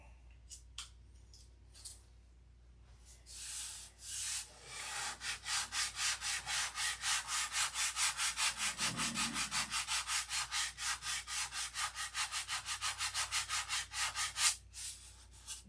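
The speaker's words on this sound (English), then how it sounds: "Great job at sanding." Hand sanding with 320-grit sandpaper on a fillet surface, a long run of steady, rhythmic back-and-forth rubbing strokes, close and fairly loud, preceded by a few scattered scrapes.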